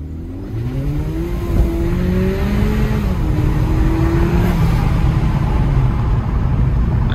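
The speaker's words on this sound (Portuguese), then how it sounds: "não tem um instante que não passa um carro bacana, viu?" A car drives past at the beach, its engine revving and shifting through rising and falling pitch, loud and close over constant wind and surf noise.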